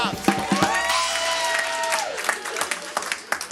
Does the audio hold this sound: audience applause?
yes